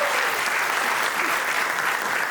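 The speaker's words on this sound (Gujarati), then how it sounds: "તો એક વખત કેડી સર માટે ફરી એક વખત જોરદાર તાળીઓ થઈ જાય" Studio audience at a Gujarati comedy talk show breaks into loud, sustained applause, a dense wash of clapping that stays steady for the whole couple of seconds.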